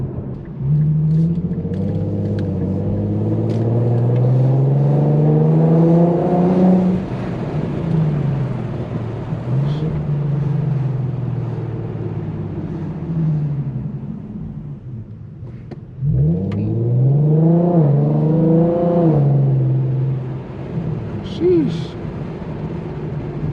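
A tuned E85 Infiniti Q50 engine revs and drones through gears at night, its exhaust note rising and falling in pitch as the car accelerates, loud and continuous from inside.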